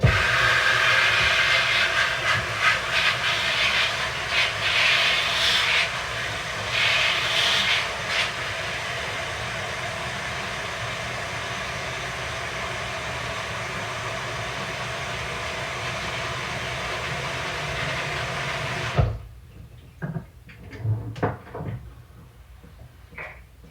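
A sprayer runs to flush soap out of a tub, a loud steady rushing hiss that holds for about nineteen seconds before cutting off, leaving a few scattered knocks and clatters.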